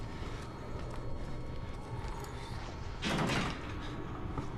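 A locked door rattles once as someone tries it in the Outlast horror game, a short burst of clatter standing out from a steady, murky ambient drone.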